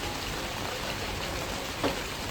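Heavy rain pours steadily outdoors at a garden buffet, a dense, loud, continuous hiss of drops on surfaces with no pauses.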